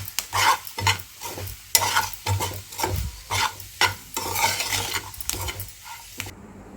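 Fresh grated coconut fry with coriander powder is stirred in a hot pan, a rhythmic series of scraping strokes roughly every half second over a constant sizzle, close and clear with no speech.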